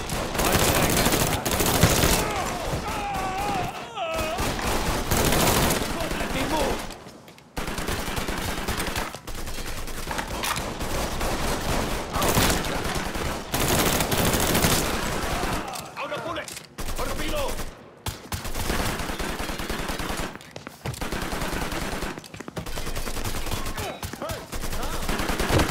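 Gunfire in the video game Mafia 3, with loud, dense bursts of rapid shots and automatic fire that go on almost without pause and are broken only by a few brief gaps.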